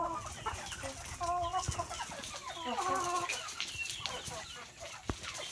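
Several chickens cluck and chatter nearby in an outdoor setting, their calls overlapping steadily against a noisy background.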